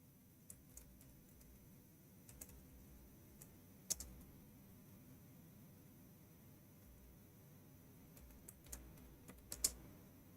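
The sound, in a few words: typing on computer keyboard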